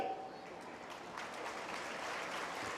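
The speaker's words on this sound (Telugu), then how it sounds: "ఎవరు జయిస్తారో వాళ్ళే చప్పట్లు కొట్టాలి" An audience at a Hindu spiritual and service fair in Hyderabad claps in a dense, continuous patter that sounds distant and fairly faint, with a voice faintly present.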